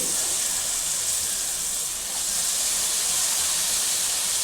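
Ridge gourd pieces going into a frying pan of hot oil and onions for a prawn and ridge gourd curry give a loud, continuous sizzling hiss that barely wavers.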